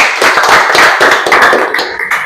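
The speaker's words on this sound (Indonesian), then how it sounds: "Oke, tepuk tangan dulu Pak Yudi." A classroom group clapping hands at a vocational school lesson, a close burst of uneven claps with distinct individual slaps, loud and without talk.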